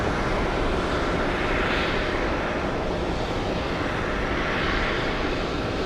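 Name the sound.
Delta 156 airliner departing JFK for Accra, Ghana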